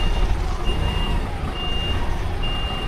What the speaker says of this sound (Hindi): अब गाड़ी रिवर्स करते हैं, आराम आराम से जाने देना